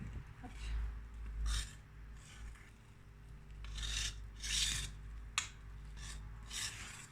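A wire whisk stirs batter for a trianon cake in a bowl, working round and round. Each stroke gives a soft scraping swish at a steady, unhurried rhythm over a low background hum.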